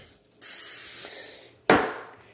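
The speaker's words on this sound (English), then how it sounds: "you're gonna spray a little bit of oil on both sides" Two bursts of aerosol oil spray onto a turkey: a long steady hiss lasting over a second, then a short sharper spritz, close by with no talking.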